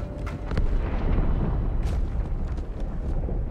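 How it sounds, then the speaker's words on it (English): Deep, rumbling explosion inside the Athens ship in the Halo 2 video game, a sustained roar with crackling bursts layered on top, loud and continuous across the whole stretch. "That explosion came from inside the Athens."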